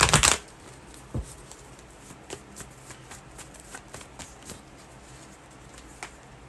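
Tarot cards being shuffled and drawn, opening with a sharp riffle burst and followed by scattered soft slaps and slides of cards laid down, close by with no talking.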